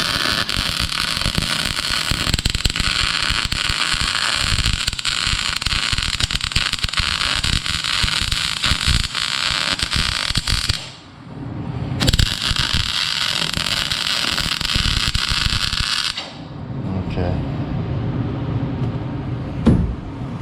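Welding on a horse-drawn hearse build near the front wheel, done without shielding gas: a loud, steady crackling hiss that runs for about ten seconds, breaks off briefly, resumes, then gives way to a quieter rumble.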